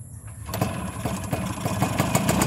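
A small motorcycle engine, a Rusi or Yamaha ridden across a rice field, revs roughly with a buzzing, sputtering note that rises and pulses close by throughout.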